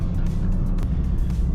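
A Toyota GR Corolla drives along a Japanese mountain road without full throttle, its engine a steady, fairly quiet drone with a brief swell, heard close and alone.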